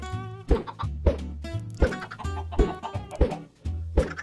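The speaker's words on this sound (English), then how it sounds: "See if I can get a couple more chickens." Minecraft chickens cluck in short repeated bursts, each a sharp peck-like note with a pitched trailing tone, about eight calls spaced roughly half a second apart, clear and close with no talk.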